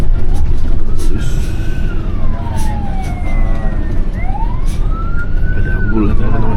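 An ambulance siren passes along a winding hill road toward Tasik in West Java, its wail rising and falling over steady road and engine noise as it goes by, with a little faint talk in the background.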